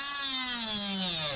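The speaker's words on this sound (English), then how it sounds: "I'm going to try to cut a big groove in it" A high-pitched power tool whines steadily as it cuts a groove into a rusted Jeep Wrangler tailgate hinge, its tone sliding gradually lower under load, loud and close throughout.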